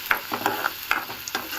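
Green chillies tossed into onions frying in a pan for a roadside-style salna, giving a steady close sizzle with several short scraping stir strokes spaced through it, no talking.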